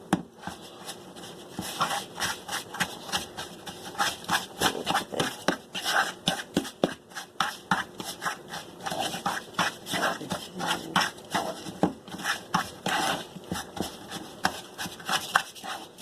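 A fork works crumble dough for fig bars in place of a pastry blender, making a long run of quick, close scraping and chopping taps against a bowl in an uneven rhythm.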